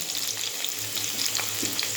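Cumin seeds hit hot oil in a pan with already fried potatoes, giving a steady, fairly loud crackling sizzle with small pops and a brief stirring scrape, and no voices.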